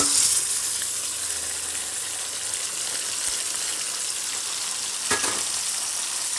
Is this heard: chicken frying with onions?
yes